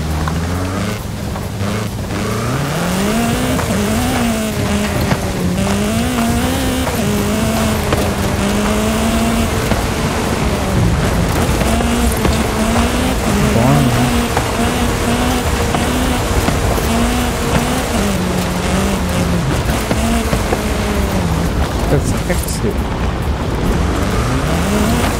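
Car driven in Forza Horizon 5, its engine loud and close for about twenty-five seconds, pitch climbing and dropping through gear shifts and throttle changes with occasional tire noise, no one talking.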